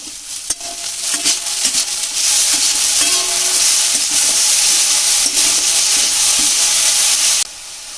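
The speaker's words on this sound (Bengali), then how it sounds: "ক্যাপসিকাম দিয়ে দিলাম ভালো করে বেড়ে চেড়ে মিশিয়ে নেব তেলের সঙ্গে" Carrot, capsicum and grated potato stir-fried in oil for veg momo filling, a loud continuous sizzle with scraping stirring strokes and no talk, ending abruptly.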